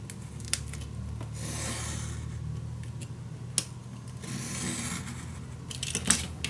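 Paper being cut with scissors for a handmade baby mini album, quiet rubbing snips and rasping strokes spread across the stretch, with a couple of sharper clicks near the end.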